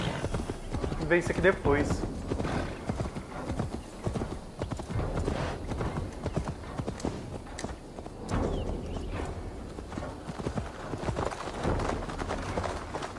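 A horse gallops in Assassin's Creed Valhalla, its hooves clopping in a fast steady rhythm with a snort or whinny, while someone speaks Portuguese over it throughout.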